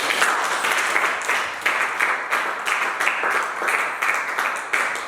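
A church congregation at a French-language worship service claps and applauds together, a steady rhythmic wash of many hands filling the room, sustained and fairly loud throughout without clear speech.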